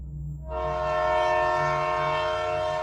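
A 1939 City of San Francisco passenger train heading westbound toward Oakland, a steady loud rumble that swells in after half a second and holds with sustained tonal horn-like harmonics, no talk.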